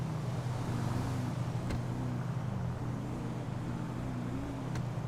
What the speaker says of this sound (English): this car is driving me crazy.